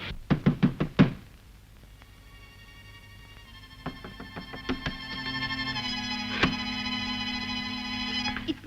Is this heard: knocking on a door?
yes